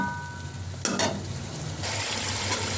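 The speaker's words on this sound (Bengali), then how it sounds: "দেখো আমার মশলাগুলো একসাথে করে কষানো হয়ে গেছে।" Spices fry together in a pan for a Bengali fish curry, a steady close sizzle with a couple of scraping stirs partway through.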